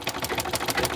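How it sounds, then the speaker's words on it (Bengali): A sewing machine stitching, with a fault where the stitches fail to catch, runs with a steady rapid mechanical chatter of needle strokes, loud and close, alone without talk. "এই যে সেলাই করছি, দেখতে পাচ্ছেন যে সেলাই"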